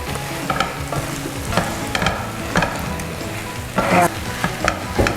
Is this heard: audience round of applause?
no